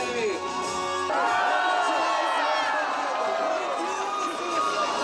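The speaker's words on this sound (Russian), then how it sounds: "И мы провожаем олимпийский огонь бурными овациями!" A crowd gives a stormy ovation to the Olympic torch relay in Krasnodar, with loud sustained cheering, shouts and whoops close by and a brief announcer-style voice at the start.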